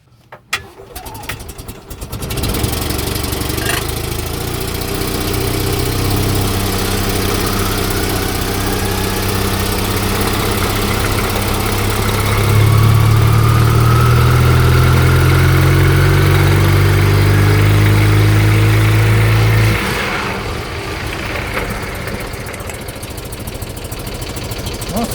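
An Invacar's small engine runs steadily after a pulley repair, a loud continuous drone that swells stronger midway, then settles back to a quieter idle, with no talk over it.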